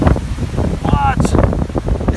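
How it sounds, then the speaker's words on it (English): Strong outdoor wind buffets a microphone with a low, rumbling roar and gusty rustle, steady and loud throughout, with a brief voice breaking through. "Wow, it's windy here. Look at that wind."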